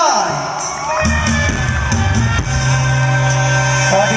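Crowd cheering and shouting at an outdoor mor lam folk music concert at a Thai temple fair in Surin, welcoming the lead male singer; a loud, continuous roar of voices with whoops over steady music tones.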